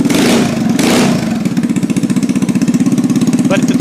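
A GY6 scooter engine with a freshly adjusted plug-and-play carburetor, revved briefly at first and then settling into a steady, close, loud idle with an even pulsing putter.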